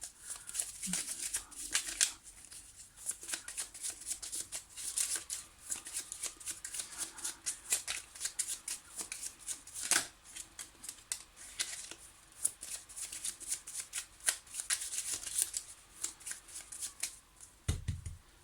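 Small Lenormand cards shuffled and cut by hand, producing a steady, quiet riffling and flicking texture for many seconds, ending in a soft thump.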